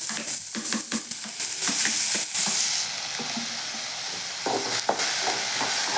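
Onions frying in a pan at home, a steady close sizzle with stirring scrapes and small clinks throughout, no talk.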